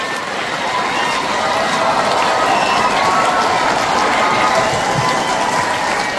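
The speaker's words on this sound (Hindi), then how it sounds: "और भाइयों, तुम्हारी तालियां ज्यादा होनी चाहिए" Many hands clap steadily and loudly from a balcony audience at a Maharaja Public School ceremony in Barmer, a thick, unbroken wash of applause for a motivational poet that holds its level throughout.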